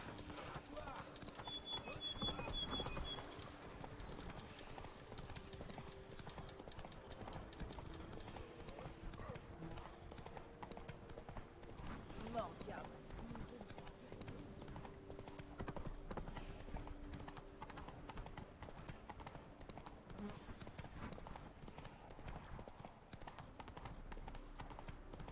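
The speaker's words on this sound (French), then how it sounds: "C'est pas compliqué, mais c'est juste que c'est vraiment les déplacements du cheval." Horse hooves in the video game The Witcher 3, a steady, rapid clip-clop running throughout at moderate volume beneath game sounds and a voice talking.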